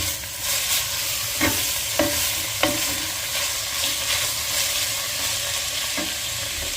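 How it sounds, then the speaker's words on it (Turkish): Dried vegetables sautéing in a pan, with a steady sizzle under irregular scraping stirs as a utensil moves them around, several sharper clicks standing out, close and fairly loud with no talking. "Şimdi kuru sebzelerimi ilave ediyorum ve kavurmaya başlıyorum."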